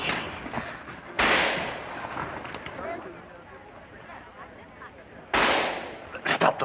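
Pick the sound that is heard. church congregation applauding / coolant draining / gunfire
gunfire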